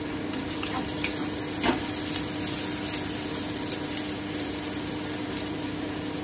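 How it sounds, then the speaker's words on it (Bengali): Spice paste sizzles and crackles steadily in hot oil in a pan over low heat for prawn bhuna, with occasional soft stirring scrapes and a few brief clinks; no voices. "আমি 1 থেকে 2 মিনিট একটু ভেজে নিচ্ছি।"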